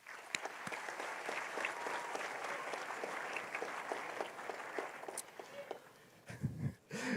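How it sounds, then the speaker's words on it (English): Steady applause from a graduation ceremony audience fills the hall for about six seconds, dense and even, then thins out into a few scattered claps and quiet room noise at the end. "Let's give them another round of applause."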